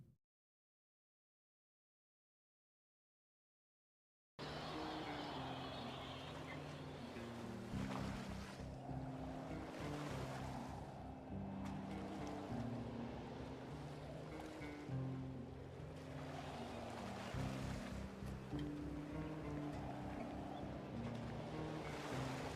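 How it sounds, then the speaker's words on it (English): Water in the zombie survival game Project Zomboid comes in after a few seconds of silence: a continuous, rolling wash of waves and surging water with gusty, hollow swells that carries on for the rest of the clip, with no talking. "I gotta say that water sound is sure as spooky sounding"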